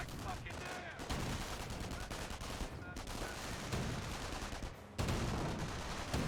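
Gunfire and explosive cannon blasts from a Company of Heroes 1 battle, in which a US M18 tank destroyer hits a German Ostwind. The shots come as dense, loud, repeated bursts over about six seconds, with short drops in between.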